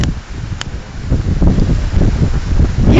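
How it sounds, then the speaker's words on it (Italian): Strong outdoor wind buffets the microphone near Bolzano, producing loud, continuous rumbling gusts that swell toward the end. "che vento!"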